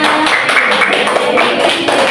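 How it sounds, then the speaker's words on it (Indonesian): A classroom group of primary school children claps together in praise at the end of an Indonesian language lesson, a dense, steady patter of hand claps filling the whole moment, fairly loud and close. "Kita tepuk tangan dong buat semuanya."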